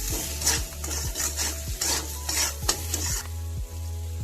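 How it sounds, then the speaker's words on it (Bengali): Frying in a pan with salt and turmeric, for a Bengali-style shing fish curry with raw tomato: a steady close sizzle with regular rhythmic stirring scrapes about every half second, alone with no talk. "এবার ভালো করে মিশিয়ে ভেজে নেব"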